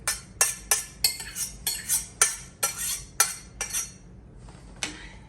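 A spoon stirs potatoes and onions into an oyster stew in a pot, making about a dozen close, crisp scraping clinks in an uneven rhythm that thin out toward the end, with no talking.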